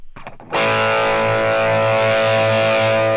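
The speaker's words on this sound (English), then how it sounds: "we just get more distortion" A few quiet plucked guitar notes, then a loud, sustained distorted chord with the amp's Boost setting on rings out with heavy gain and buzz, close and steady.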